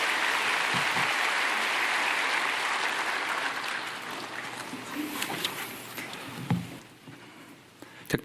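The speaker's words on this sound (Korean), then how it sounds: "이준우 성도님 나올 때 박수로 환영하겠습니다" A church congregation gathered for a Korean service applauds in a large hall, a dense, steady roar of many hands that slowly thins out and fades, with a few scattered claps and thumps near the end.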